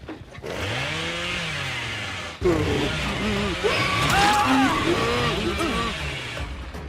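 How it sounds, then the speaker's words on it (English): Bubba's chainsaw sweep in the video game Dead by Daylight revs and buzzes loudly, the motor whining and rising in pitch, with a brief cut, then a renewed burst amid chaotic game sounds and shouting. "I should have extended my chainsaw sweep and gotten the double down"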